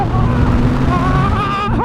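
A Triumph Rocket 3 GT motorcycle engine hums loudly and steadily, with a rising whine as it accelerates to overtake on the road, accompanied by rushing wind noise.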